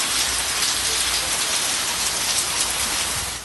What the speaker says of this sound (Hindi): रावलपिंडी और इस्लामाबाद में बारिश और ओले खूब जमकर गिरे।